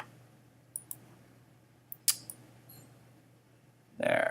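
Sharp, isolated mouse clicks from editing RAW photos on a computer: a few quiet taps near the start, then a brighter click around two seconds, with no talking.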